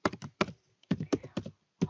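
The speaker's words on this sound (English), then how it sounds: "Here type in your email address for the account" Typing on a computer keyboard while entering an email address at a Hotmail sign-in page: clusters of quick, close key taps in short bursts with brief pauses between them.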